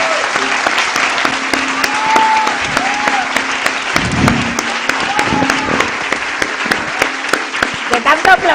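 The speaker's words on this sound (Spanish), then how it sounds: "Otro aplauso para nuestros invitados." A theatre audience applauds guests in a long, dense round of clapping that holds steady throughout, loud and close, with a few voices rising faintly above it.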